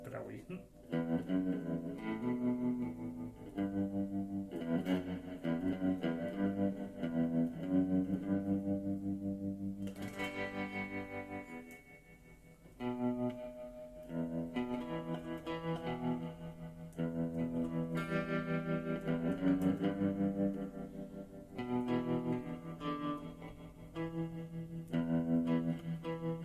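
Electric guitar played through Mr. Black Deluxe and Blue Monarch pedals, chiming sustained chords and notes with a shimmering, echoing effect, ringing steadily and close with a short break midway.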